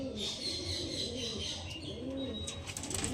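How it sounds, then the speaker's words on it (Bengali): Soft coos from a female and male Andhra pigeon repeat in low, throaty phrases, with faint chirps and light rustling around them, fairly quiet. "তো এটা হচ্ছে মাদা পায়রা এটা হচ্ছে নর পায়রাটা"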